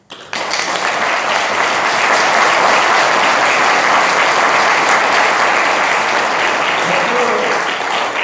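Sustained, loud applause from a large crowd fills the whole stretch, dense and even from start to finish.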